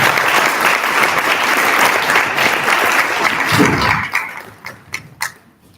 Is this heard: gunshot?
no